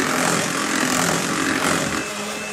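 An electric hand mixer whirs steadily while beating eggs for a Swiss roll sponge cake, a continuous buzzing motor drone held close and loud without a pause.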